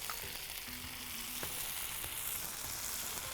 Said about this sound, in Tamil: இப்போ தக்காளி பழத்தை சேர்த்துக்கலாம். தக்காளி பழத்தை பிழிஞ்ச மாதிரி போட்டுக்கலாம்.